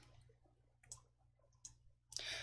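Computer mouse clicks while formatting cells in Excel, a few quiet, sharp clicks spaced irregularly over a faint background hum.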